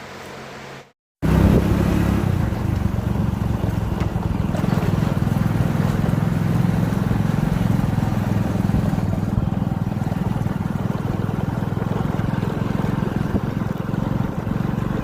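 A motorcycle rides over a rough, bumpy rural road with a continuous loud engine and wind roar, following a brief dropout at the start.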